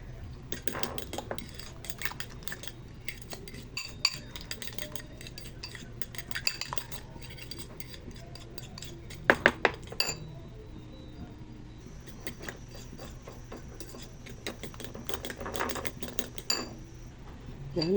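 A utensil mashing and scraping cooked eggplant in a dish for tortang talong, with repeated clinks and taps of metal against the dish in an irregular rhythm, close and fairly quiet, with no talking.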